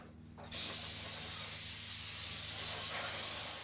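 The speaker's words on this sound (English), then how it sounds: "You want to blow it all out really well everywhere you can." Compressed air blasting water off a motorcycle's cable and brake pivot points during a bike wash: a sudden, loud, steady hiss that starts abruptly and keeps blowing close to the mic.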